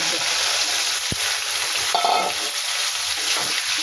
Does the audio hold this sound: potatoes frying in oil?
yes